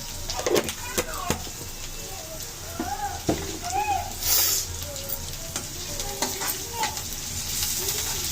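Ingredients for pudina rice with turmeric and salt fry in a pan, with a loud steady sizzle and several sharp stirring knocks while someone talks over it.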